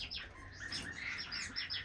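Finches in an indoor bird room keep up a steady stream of quick, high chirps and tweets from several birds, close and lively with no talking.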